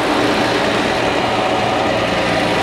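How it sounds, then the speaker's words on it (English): A 1962 Dodge D300 truck engine idles close by after sitting for 34 years, a loud, steady, even rumble with no voices. "Fires up real nice"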